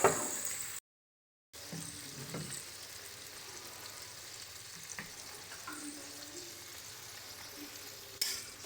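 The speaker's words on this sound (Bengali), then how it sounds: "ভালো করে সমস্ত মশলাগুলোর সঙ্গে মিশিয়ে নিচ্ছি টমেটোর পেস্টটাকে।" Ground spices and tomato paste sizzle and fry in a pan while being stirred, a steady soft crackle with occasional scraping clinks of the spoon, fairly faint and close, with a brief drop to silence near the start.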